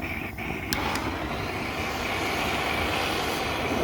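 A vintage gasoline blow torch lamp roars steadily while heating up, a dense continuous rushing hiss with a couple of brief sharp clicks near the start, close and loud throughout.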